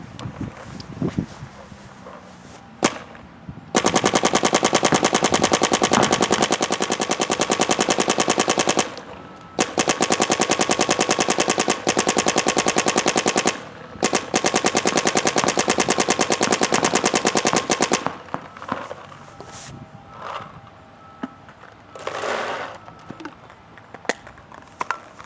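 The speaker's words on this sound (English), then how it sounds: "never trust the microphone on a camera for judging sound when it comes to a paintball gun" A Dynasty Field One Force paintball marker fires rapid, loud automatic strings in three long bursts of several seconds each, a dense mechanical rattle close to the microphone, with wind and scattered handling knocks between bursts.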